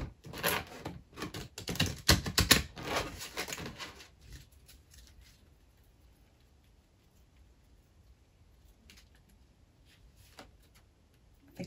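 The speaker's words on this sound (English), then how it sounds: "Let's give them a good shuffle." Tarot cards are given a brisk shuffle, making a dense, crackling riffle of papery snaps for about four seconds. It then drops to near quiet, with only a few faint ticks and soft rustles.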